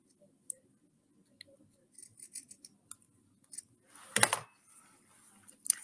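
Scissors trimming fabric for a chick pincushion: a few quiet, close snips and small handling clicks, with one louder cut near the end, in a calm room.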